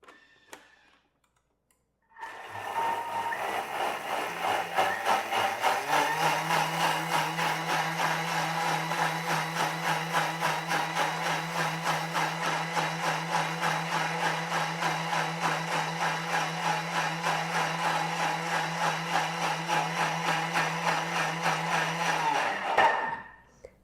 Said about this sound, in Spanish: Lo voy a procesar o licuar más o menos por unos 20 segundos, medio minuto, a que esté súper espumoso y todo esté súper bien integrado